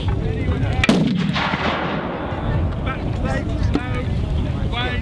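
Loud black-powder cannon shot at an English Civil War battle reenactment, a sharp near boom followed by a long rumbling decay, with wind buffeting and crowd noise beneath.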